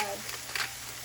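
Mushrooms sautéing in a pan while being stirred often, a faint, soft sizzle with a couple of brief scraping stirs.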